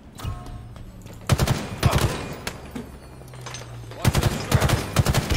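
Rapid automatic gunfire in a first-person shooter match, with loud clustered bursts of rattling shots in two main volleys and single cracks between them.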